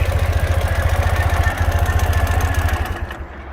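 A 2015 Ural Gear Up motorcycle with a pushrod engine idling, a steady, low, lumpy thrum with rapid even pulses, close and fairly loud, running alone.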